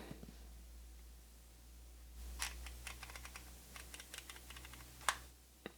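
Aperture ring on a Viltrox 75mm f1.2 AF PRO lens for Nikon Z being turned, giving a run of small, crisp clicks in quick irregular succession, close and quiet, with no talking.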